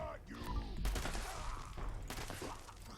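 Minigun fire in the video game Fallout 76 roars as a dense, continuous burst of rapid shots with heavy low thumps, loud and sustained throughout, with some chatter in the mix.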